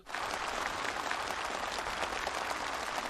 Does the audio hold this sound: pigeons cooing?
no